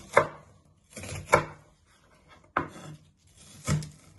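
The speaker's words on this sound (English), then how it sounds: "Just give it one more chop" A knife chops food on a board in four separate, sharp close strikes spaced about a second apart, each followed by a brief scrape, with quiet pauses in between.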